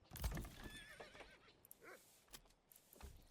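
Horses in the medieval city-building game Manor Lords whinny in a stable, with a clear neigh near the start followed by softer snorts, shuffles and hoof knocks, fairly quiet and with no talking.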